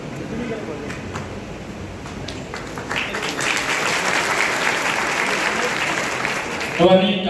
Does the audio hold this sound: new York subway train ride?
no